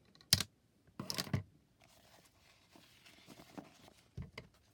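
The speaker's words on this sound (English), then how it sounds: "And now we're going to do some cutting." Cutting craft material for a handmade craft project: a few sharp, close crisp snips in quick bursts, followed by softer scraping and rustling of paper or card, with no talking.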